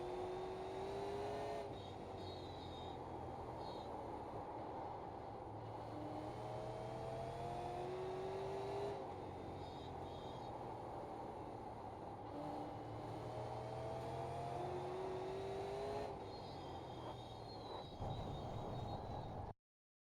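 A Super Late Model race car laps Oxford Plains in the iRacing sim, its engine droning steadily from the cockpit and rising and falling in pitch through the turns, alone without talk.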